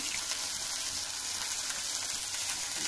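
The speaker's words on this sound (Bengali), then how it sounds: "এখন আমি একটু আলুটা ভেজে নেব।" Potatoes fry in hot oil in a pan with garlic and onion, a steady, bright sizzling hiss that continues evenly without pause.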